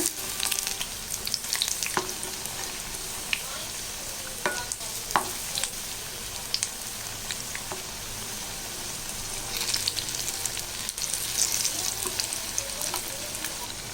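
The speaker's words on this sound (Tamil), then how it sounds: "எல்லா வடையும் இதே போல் போட்டு நல்லா மொறு மொறுன்னு சுற்றி எடுத்துடலாம் இப்போ இதை நல்லா திருப்பி போட்டுடலாம்" Colocasia (taro root) vadai deep-frying in hot oil, a steady loud sizzle and bubbling throughout with occasional clicks and stirring sounds from the pan.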